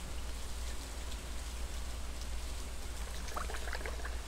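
Steady rain falls in the farming game Stardew Valley, a continuous soft patter with a faint low hum beneath and a few brief bright chirps near the end.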